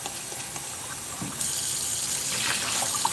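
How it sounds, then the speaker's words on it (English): Running water flows steadily from a tap into a sink nearby, a constant hissing gush that grows slightly stronger partway through. "if the water is too loud"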